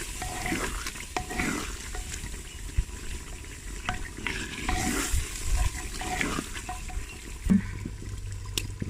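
Salt, chili and spices fry in a pan for a chicken haleem, a continuous low sizzle with occasional scraping and stirring noises, close and moderately loud.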